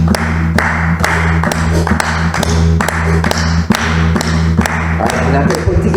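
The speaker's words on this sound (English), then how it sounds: "3s, please clap." A group of people claps a slow, regular beat during a rhythm games workshop, about eight loud, evenly spaced claps over a steady background of other sound.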